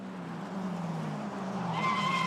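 Formula Regional race cars at Spa-Francorchamps, one locking its brakes with a sustained tire skid that rises into a high squeal near the end, heard alone at close range.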